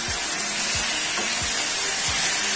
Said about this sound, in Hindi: तो देखिए इसमें चिकन को भूनते हुए हमें 4 से 5 मिनट हो चुके हैं।